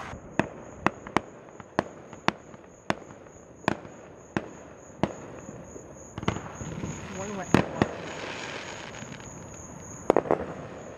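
Distant fireworks thud and crack in an irregular series of sharp bangs, with a high steady tone and a brief voice in the background.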